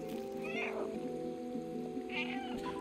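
A cat meows twice in the video game Stray, soft and brief, over a steady ambient game soundscape with a low droning hum.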